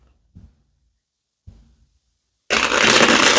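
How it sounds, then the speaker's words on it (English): Tarot cards being shuffled during a weekly reading, a couple of soft brief handling taps followed by a loud, dense burst of riffling card noise close up at the end. "All right, let's get one more shuffle."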